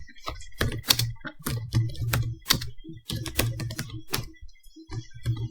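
Irregular bursts of computer-keyboard typing, close and clear, with uneven pauses between runs of keystrokes, heard alone without speech.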